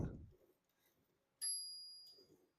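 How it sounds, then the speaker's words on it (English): Carriage bell of a 1966 Adler Tippa 1 portable typewriter rings once, a bright clear ding with a long ringing decay, after a soft thump and faint handling noise in a quiet room. "that's about as good as you can get for bell sound"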